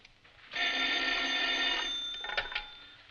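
A telephone bell rings in a continuous, loud metallic trill for about a second and a half, then fades out with a few clicks as the receiver is handled. The call goes to a criminal henchman.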